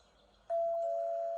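Electronic doorbell chime that sounds once partway in and then holds a clear sustained tone to the end over a quiet indoor background.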